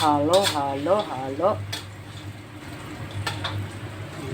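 A spoon stirs soy sauce into a pan dish of milkfish cooked with pineapple, scraping and clinking with a soft sizzle, while someone talks over the first part.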